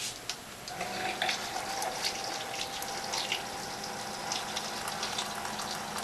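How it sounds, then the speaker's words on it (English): Hot water pours steadily into a cup for brewing loose tea, with a soft, continuous splashing hiss, close by and without talk. "Add your hot water"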